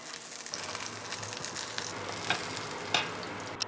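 A salmon fillet sizzles steadily in a hot oiled pan, a soft continuous frying hiss with a few small pops and crackles, fairly close and quiet, with no talking.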